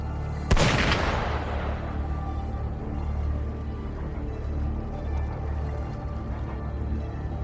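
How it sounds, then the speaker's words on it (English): A single sharp gunshot cracks once near the start of a video game cutscene, then echoes away into a low rumbling ambient hum with no further shots. "Gunfire! We've got intruders."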